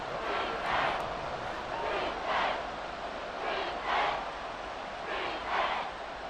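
Stadium crowd noise in the Madden NFL 24 football video game swells and recedes in repeated waves of cheering during a big play, building toward a third down, a steady roar throughout the clip.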